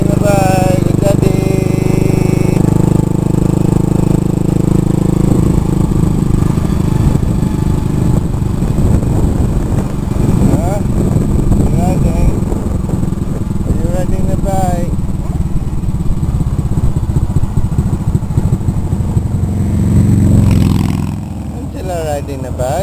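A motorbike rides along a road on Koh Lanta with a steady engine drone and passing wind rumble, close and loud throughout, while voices talk over it; the engine fades down near the end.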